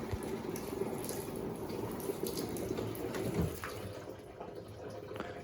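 Water spills steadily over the front of an Electrolux Turbo Compacta 7 kg top-loading washing machine, a close, continuous splashing and running flow that holds level throughout with no voices.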